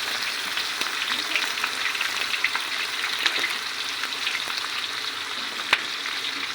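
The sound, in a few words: onion frying for mung dal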